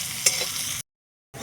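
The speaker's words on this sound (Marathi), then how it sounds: "आता हे कांदा लाल होईपर्यंत तळून घ्यायचा असा." Onion frying in oil on a wood-fired stove: a brief, close sizzle with a stirring scrape, cut off by a short silence before the frying sound returns.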